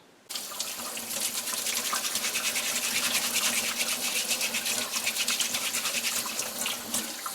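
A stiff brush scrubs burdock root up close, a continuous rapid bristly rasping with a watery hiss that starts abruptly and keeps a steady rhythm to the end.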